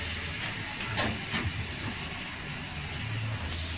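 A little water poured into a hot pan of frying spiced bhetki fish-bone curry sets off a steady loud hiss of steam with a few brief sharper sputters, close up and without talk.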